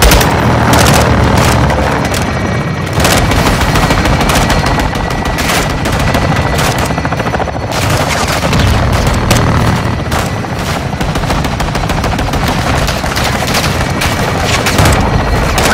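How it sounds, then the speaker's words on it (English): Belt-fed machine gun fire and explosions in a Call of Duty: Modern Warfare II battle, dense rapid bursts of gunfire mixed with heavy booms, loud and continuous throughout. "Taking belt fed fire from beneath the tower."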